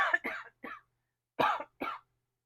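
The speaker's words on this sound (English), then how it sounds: "Excuse me, I'm going to cough." A woman coughs several times in a quiet room, a cluster of three quick coughs followed by two more after a short pause, each close and fairly loud.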